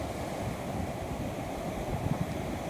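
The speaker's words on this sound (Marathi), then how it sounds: "त्या लाटा येत आहेत त्या लाटांचा आवाज" Foaming sea waves roll in and crash near a Dutch-built coastal fort, forming a constant roaring wash mixed with wind buffeting on the microphone, close and unbroken, with no talking.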